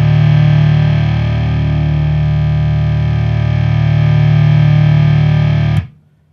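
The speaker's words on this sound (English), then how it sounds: "that kind of phaser chorus-y kind of sound that's happening" A Heretic Effects Drone Box makes a loud, sustained electronic drone with clashing tones and a wavering phaser or chorus-like shimmer, holding steady for several seconds before it cuts off abruptly to near silence.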